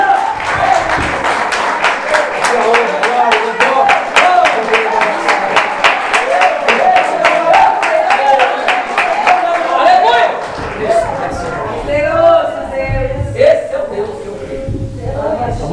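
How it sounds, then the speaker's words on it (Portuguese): Church congregation giving a long burst of rhythmic clapping, loud and close, many hands beating together in a steady fast pulse before it breaks up into scattered claps and murmuring voices. "Dê uma salva de palmas para Ele."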